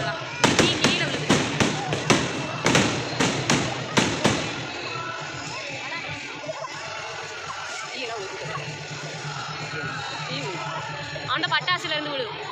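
Firecrackers burst at a church festival, a rapid run of sharp cracks that roll into a dense, noisy spray. Crowd chatter follows, and a short second volley of pops comes near the end.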